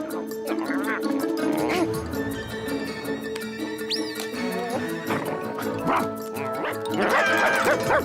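Barking from a cartoon dog in a Garfield animated episode, heard amid busy music and effects, with several yelping outbursts across the stretch.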